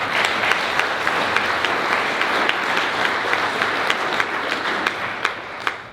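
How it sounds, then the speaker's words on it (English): Sustained audience applause at a leadership conference panel, a dense steady wash of many hands clapping with a few sharper nearby claps standing out, loud and continuous throughout. "Another round of applause for these handsome fellows."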